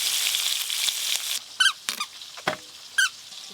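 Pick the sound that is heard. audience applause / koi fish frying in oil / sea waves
koi fish frying in oil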